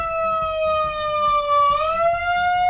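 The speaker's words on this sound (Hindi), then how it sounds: "अब वो एक सायरन ले आया" A steady electronic siren tone sounds loudly, its pitch dipping and rising once, over faint low rumbling.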